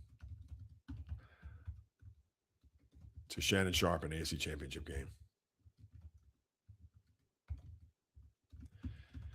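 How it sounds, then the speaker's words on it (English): Close computer keyboard typing, bursts of quick key clicks coming and going around a stretch of someone speaking in the middle. "I know I'm typing in for days here."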